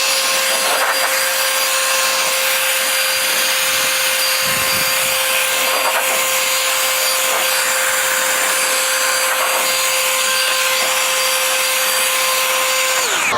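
An electric blower drives a strong, steady whine of air across a wet car panel to dry it, loud and close for the full duration with no breaks and no talking.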